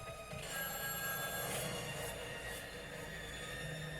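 A telephone rings on an incoming call in a TV drama, a faint, steady electronic ring held under a low background hum.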